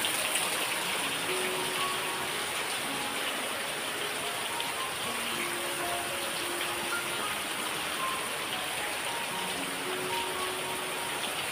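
A torrential Konkan monsoon downpour rushes on without pause, a thick, even roar of rain striking surfaces nearby, with faint tonal hums drifting underneath and no one speaking.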